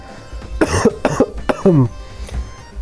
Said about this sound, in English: now I've been coughing so much today because I'm getting over a cold